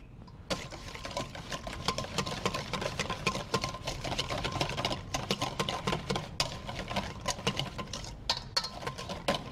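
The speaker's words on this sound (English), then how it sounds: "Now whisk that together." A whisk beats sour cream and mayonnaise dressing with garlic, lime juice, salt and pepper in a bowl, making a fast, continuous patter of light clicks and taps, close but fairly soft.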